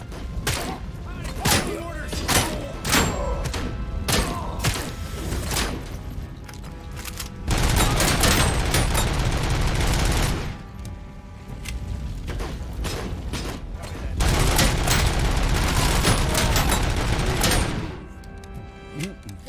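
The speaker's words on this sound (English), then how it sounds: "where are they shooting me from?" Bursts of gunfire from enemies and a player's OCP shotgun in the video game Robocop: Rogue City, loud and rapid, with sustained automatic volleys around mid-clip and again later, while someone talks over the action.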